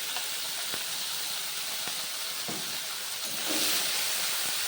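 Spice paste hits hot oil with charred dried chillies in a pan for a fish curry, giving a continuous loud sizzling hiss with scattered pops and a surge of spitting near the end, close and without speech.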